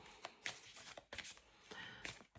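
A deck of playing cards gets a quick shuffle, a few soft, quiet riffling bursts in close succession, close by and with no talking.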